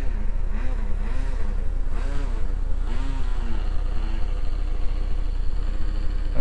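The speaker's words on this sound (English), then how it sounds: "I love them OS engines. Y'all can see me taxiing it," An OS glow engine in a radio-controlled F-14 model plane taxis on the ground, a buzzing, fluttering drone that rises and falls in pitch with throttle changes, close and steady.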